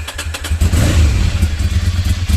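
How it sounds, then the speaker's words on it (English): Ducati Monster 696 motorcycle engine revving up loudly at close range, a steady throaty rumble that swells and holds with no talking over it. "This is the Ducati typical sound."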